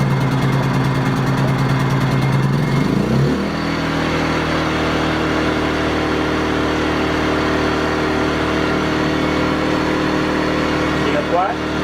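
A WEN 56200i inverter generator runs with its choke being switched off. It gives a steady engine drone, and after a brief pitch shift the tone settles lower and smoother. The running is continuous and fairly close.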